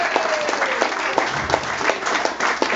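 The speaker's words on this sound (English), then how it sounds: "give them all a round of applause" Audience applause at an Elvis tribute charity night, a steady dense crowd clapping that carries on throughout without a break.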